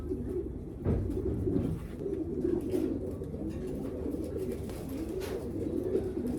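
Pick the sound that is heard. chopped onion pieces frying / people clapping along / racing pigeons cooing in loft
racing pigeons cooing in loft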